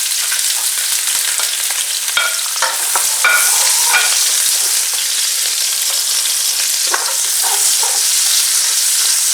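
Garlic and onions hiss loudly in a hot pan for a home-style shrimp pasta, a close, constant sizzle punctuated by scraping and stirring clicks.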